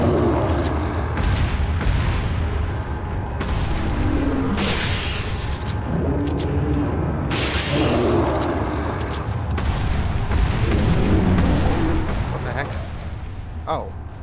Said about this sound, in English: I'm just going to go ahead and use my rifle.